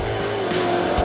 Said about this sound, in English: This off-road racing Land Rover wasn't built for the tarmac.